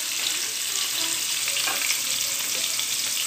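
Pork browning in a pan with garlic and onions, giving a steady, close sizzle and frying hiss with faint stirring scrapes, no voices.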